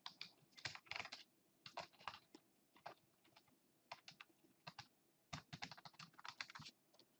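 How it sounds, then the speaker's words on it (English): Quiet clicking of a computer keyboard as a username and password are typed at a Windows 10 login prompt, uneven bursts of close, crisp keystrokes separated by short pauses. "So I'm gonna type the administrator username and password"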